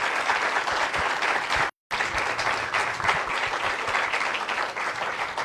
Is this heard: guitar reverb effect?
no